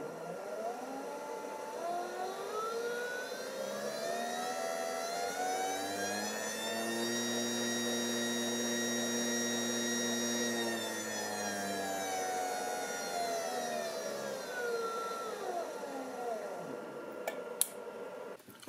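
Small DC motor driven through a PCA9685 PWM board, whirring at full speed in reverse: a steady tonal whine that rises as it spins up, holds for several seconds, then winds down toward a stop, heard alone.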